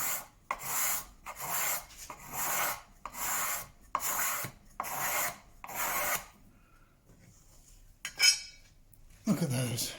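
A card scraper pulls shavings off a wooden surface in about seven rhythmic, rasping strokes, each a close, bright scrape, followed by a pause and some light handling clatter.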